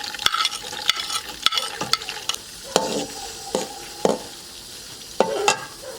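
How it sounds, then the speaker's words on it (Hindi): Onions frying in cooking oil for Lahori mutton karahi, a constant sizzle punctuated by repeated sharp spatula scrapes and clangs against the pan at an uneven rhythm, close and fairly loud. "और इनको अच्छी तरह भूनेंगे"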